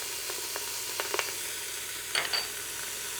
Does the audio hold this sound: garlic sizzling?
yes